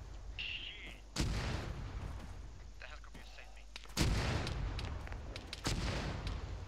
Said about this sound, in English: Incoming mortars, brace.